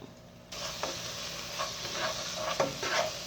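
A spoon stirs a thickening mixture in a pan over a low to medium flame, steady frying sizzle underneath, with several scraping strokes against the pan coming through close.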